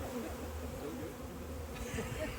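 A swarm of honey bees on an early morning, a dense steady buzzing hum filling the air close by, continuous without pause.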